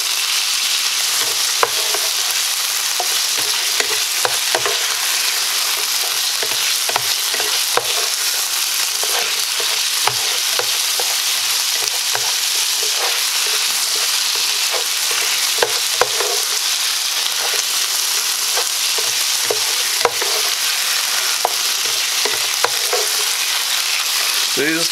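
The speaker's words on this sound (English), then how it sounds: "So now we're just going to stir this up." Green beans sizzle steadily in a hot pan, a dense continuous frying hiss broken by frequent soft scrapes and clicks of stirring, close and alone with no voices.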